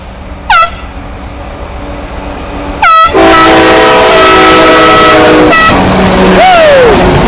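An SD60E locomotive, number 6958, leads a heavy CA-10 manifest freight through the mountains, its horn blasting in short bursts and then a long sustained blare over a loud, steady rumble of engines passing close by.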